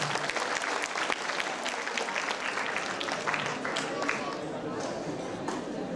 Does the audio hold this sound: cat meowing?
no